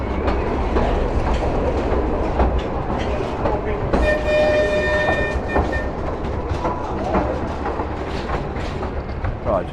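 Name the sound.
Pleasure Beach Express ride train running through a tunnel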